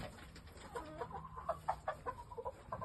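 A Shamo game bird rooster clucks in a run of short, close, rhythmic clucks with no talking.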